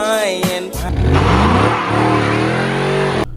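A 2013 Dodge Charger R/T Max AWD revs hard, its engine note climbing and holding loud and close with rising harmonics, after a couple of short blips at the start; the sound cuts off abruptly near the end.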